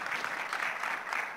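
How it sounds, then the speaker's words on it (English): An audience claps steadily for a conference panel at the Oktane19 event, a short, dense burst of applause with no voices over it. "Just a round of applause for our panel."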